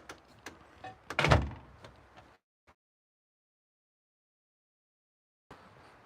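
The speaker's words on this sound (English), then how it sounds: "Lock the door." A door is shut and locked: a burst of clunks, rattles and one heavier thud, a last faint click, then near silence before a quiet rustle returns.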